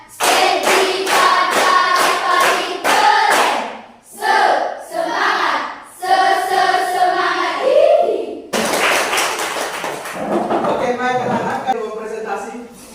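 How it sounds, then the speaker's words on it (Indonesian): Classroom of students doing a rhythmic spirit-clapping chant, with bursts of sharp hand claps in quick patterned sets, mixed with loud group shouting and a leader's voice calling out the counts. "2 kali tepuk semangat. 3 kali tepuk semangat."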